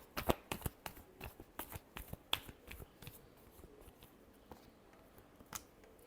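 A deck of tarot cards is shuffled quietly by hand, giving a run of sharp, irregular flicks and taps that are densest at the start and thin out toward the end, faint and close with no voices.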